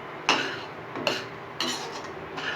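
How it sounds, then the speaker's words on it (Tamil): A spoon scrapes and stirs through potato masala gravy with added water and salt in a pan, three distinct scraping strokes spaced about a second apart, close and clear with no talking. "தேவையான அளவுக்கு உப்பு சேர்த்து இது கலந்துடலாம்."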